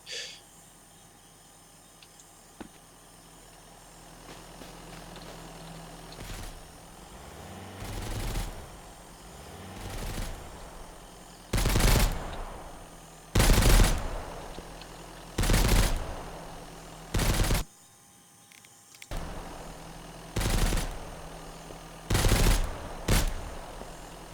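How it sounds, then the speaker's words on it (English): Gunfire in the survival game Mist Survival: a string of loud, sharp shots, single and in short bursts, spaced irregularly over a quiet ambient background with no talk. "he's shooting at the dead body"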